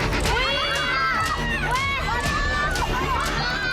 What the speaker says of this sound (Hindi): हर तरफ बस खौफ की चीखें,